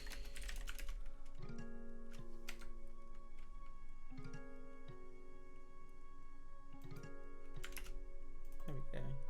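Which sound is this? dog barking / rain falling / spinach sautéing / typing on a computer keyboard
typing on a computer keyboard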